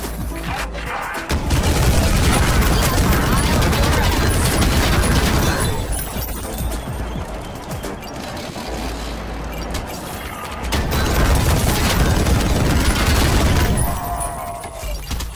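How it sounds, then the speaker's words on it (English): Chain gun firing in the shooter game Ion Fury, loud sustained bursts of rapid gunfire with booming impacts, pausing briefly in the middle before another long burst. "The last gun in the base game's lineup is a chain gun, which does have a bit of a slow windup"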